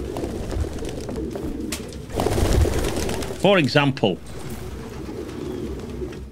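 Pigeons coo in the Detroit: Become Human video game, a short burst of several rising, throaty calls near the middle, heard over a steady ambient background with brief speech just before.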